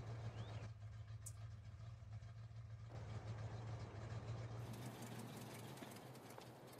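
A ZIL-131 truck engine in the game Farming Simulator 22 runs at a steady, quiet idle throughout, a low droning hum with faint mechanical texture and no voices.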